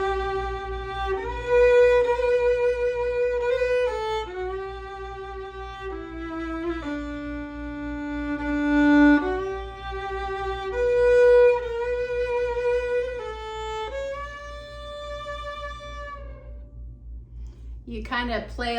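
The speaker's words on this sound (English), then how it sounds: "If I was trying to play the fiddle, it might sound something like this." Fiddle playing Amazing Grace in a fiddle style, a clear solo melody with slides and ornamented held notes, steady and close, ending in a short pause before a voice begins.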